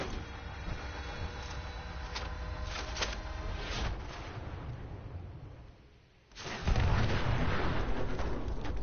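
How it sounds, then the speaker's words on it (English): Robots in Fallout 76 blow up in a run of rumbling, booming blasts with crackling debris, a dip into quiet and then a heavy low-end explosion that roars on. "the bots were literally created to explode like that"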